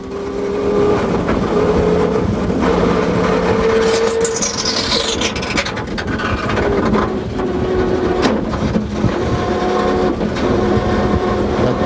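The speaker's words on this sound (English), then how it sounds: "turbo's gone and a great drive literally goes up in smoke" A rally car at the 1998 Donegal International Rally roars loudly and continuously as its turbo fails, the engine note straining and shifting with a rising whine partway through, under heavy constant noise.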